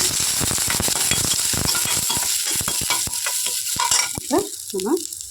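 Garlic and curry leaves fry in a pan after dried red chillies, a dense sizzle with stirring scrapes and clatter at close range, a little sparser in the final seconds.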